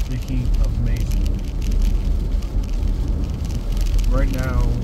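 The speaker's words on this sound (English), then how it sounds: "almost every day it's raining like this" Rain drumming on the roof and glass of a 2022 Jeep Gladiator, heard from inside the cab as a steady close wash of patter, with a person talking over it throughout.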